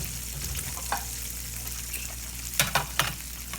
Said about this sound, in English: While my bacon is cooking